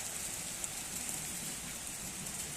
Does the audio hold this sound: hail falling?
yes